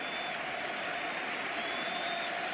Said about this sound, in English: the round of applause around this stadium as Messi bewitches, bothers and bewilders us all.